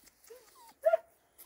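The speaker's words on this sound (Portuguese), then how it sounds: "A gente sempre achando o cachorro pelo caminho" A dog whimpers softly in a quiet outdoor setting, thin rising whines followed by one slightly louder yelp, faint and close.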